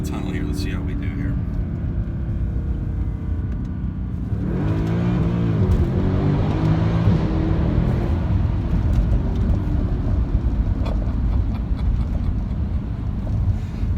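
A 2013 Mercedes-Benz C63 AMG drives through a tunnel. Its steady engine roar swells and becomes fuller and more enclosed partway through, then holds at a loud, continuous level.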